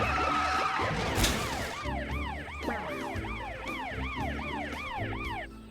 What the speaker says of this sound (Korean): 사이렌 소리 들려?